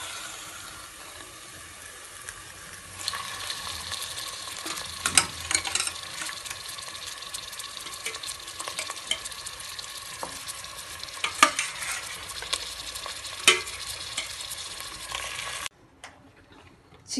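Chicken frying with onion and green chilli in a pan, a soft steady sizzle under intermittent scraping and clinking of a stirring spoon, close and fairly quiet, ending in a short pause.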